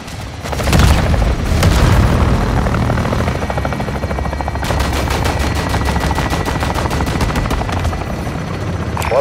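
Call of Duty Modern Warfare 2 gameplay: a loud, sustained helicopter rotor thrum overlaid with bursts of heavy gunfire and booming impacts, with a rapid machine-gun rattle in the second half.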